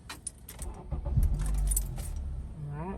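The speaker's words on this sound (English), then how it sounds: "now we're gonna go ahead and start up the car" A Honda Accord's engine cranks and catches after a jangle of keys, settling into a steady low idle with a rising whir near the end, heard close up with no talking.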